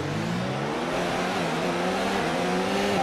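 An F1 race car from F1 2019 revs up through the gears, its high engine note rising in steady stepped sweeps, loud and close, with no talk.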